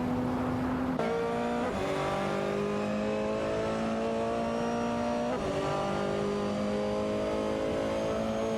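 Race car engines rev and scream continuously in a racing video game, with several cars' pitches rising and shifting as they accelerate, loud and steady with no voices.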